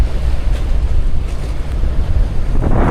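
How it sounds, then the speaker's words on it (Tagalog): Sea waves wash against a boat travelling off Batangas, a loud, continuous rush of water mixed with heavy wind buffeting the microphone, with no one speaking. "Gipaw ba yan? Alon pala,"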